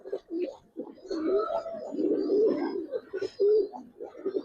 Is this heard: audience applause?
no